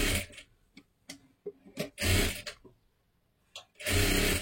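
A sewing machine stitches a double seam on a blouse in short close bursts. Quick needle runs alternate with brief pauses, and two longer buzzing runs come near the middle and at the end.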